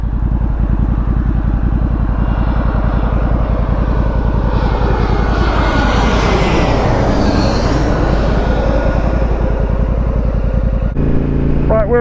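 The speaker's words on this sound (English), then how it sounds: "there's a plane coming in" A loud airplane roars overhead, its engine droning steadily and rising as it passes close, with a sweeping pitch shift before fading at the end.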